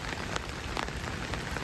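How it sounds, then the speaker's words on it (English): Rain falls steadily on a boatyard in Panama during the rainy season, a close, even patter of drops hitting surfaces with no talk over it. "going to be raining all day"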